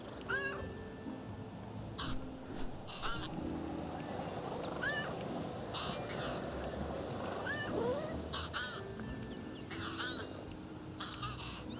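In Little Kitty, Big City, a crow caws with a few scattered calls over a busy game soundscape, mixed with cat meows and other ambient effects, and no talk.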